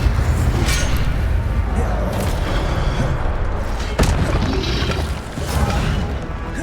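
Hogwarts Legacy gameplay: a fire spell goes off amid dense game sound, with booming and crashing bursts over a constant rumbling background and one sharp impact partway through.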